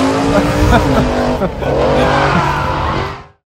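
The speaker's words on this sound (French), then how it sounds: "Et alors là on va vous montrer le clutch kick." A BMW E36 doing a clutch kick: a loud, sustained engine roar with revving and tire squeal, dipping briefly mid-way before surging again, then cutting off abruptly near the end.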